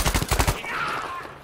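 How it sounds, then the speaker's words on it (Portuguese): A rapid burst of about eight gunshots fires in quick succession in Battlefield V, loud and close, then trails off into a fading echo. "Aí já tinha todo mundo escutado os tiros."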